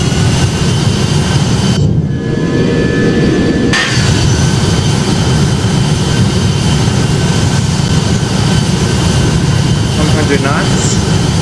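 Boeing 757 jet engines spooling up for takeoff in the Project Flight simulator, Iron Maiden livery, departing Larnaca: a loud, steady broadband engine roar fills the whole clip, with a brief dip near the start and faint voice activity underneath.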